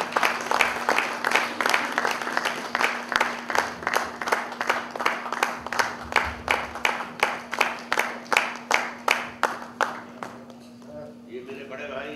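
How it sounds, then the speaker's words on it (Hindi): An audience at a film's first-look event claps in unison with a steady, even rhythm for about ten seconds. The clapping then fades and a voice begins to speak. "तालियां बजती रहें।"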